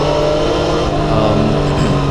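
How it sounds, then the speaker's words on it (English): Motorcycle engine held at high revs above 4000 RPM, a loud, close, continuous buzzing drone with steady pitch and no pauses, heard alone. "see here, I'm revving above 4000 RPM."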